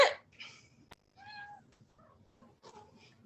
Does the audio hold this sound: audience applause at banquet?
no